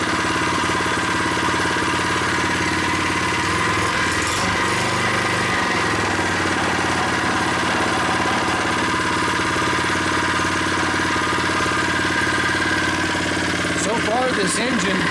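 A Predator 79cc small gasoline engine idles steadily while warming up, a close, continuous buzzing drone with a slight knock, running alone at even speed throughout.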